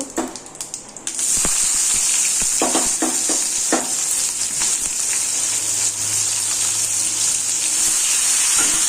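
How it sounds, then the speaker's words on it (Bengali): Chopped onion drops into hot oil already frying cumin seeds, and a loud, steady sizzle kicks in and holds, with brief stirring clinks early on. "জিরাটা ভাজা হয়ে গেলে এখানে আমি পেঁয়াজ কুচিটা দিয়ে দেব"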